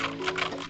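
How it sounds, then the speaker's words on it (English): Scroll wheel on the steering wheel of a Hongqi H6 sporty coupe being rolled, giving a quick run of small close clicks in an irregular ticking rhythm inside the car. "Using the scroll wheel is pretty handy too."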